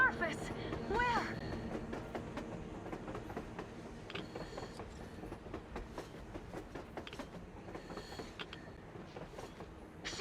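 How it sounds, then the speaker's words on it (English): Train passing on the surface in the video game Metro Exodus, with a steady rolling clatter of wheels and rhythmic clicks under voices talking. "A train! A damn train on the surface!"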